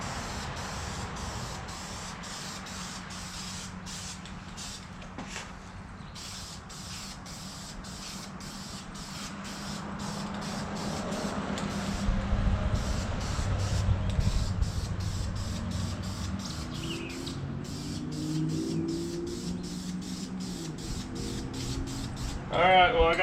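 A spray can or spray gun lays a dust coat of paint onto engine parts for a 1974 Chevy C30 dually truck, a long steady hiss broken by short bursts and pauses, close by, with a rumbling background rising midway.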